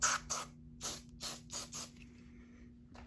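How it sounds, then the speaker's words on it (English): A handful of short, sharp hissing bursts from a CRC aerosol spray can sprayed at a smoke detector, close by, separated by brief pauses, then quiet. "I'm going to activate the smoke detector by just spraying some CRC."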